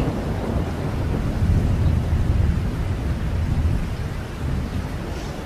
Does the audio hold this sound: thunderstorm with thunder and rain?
yes